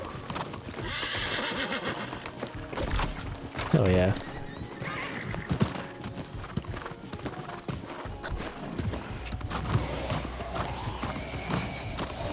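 Hooves clip-clop at a run amid busy sound effects in the video game New World, with a horse neighing; a person speaks briefly over it.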